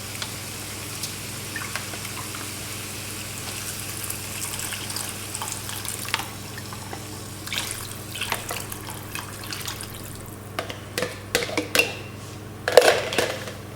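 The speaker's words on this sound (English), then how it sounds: "The stock will go in next. There's 3 cups of stock here." Three cups of stock being poured into a pot of meat sauce for stuffed eggplant, a soft continuous liquid splashing and trickling over kitchen background noise, with a few clinks near the end.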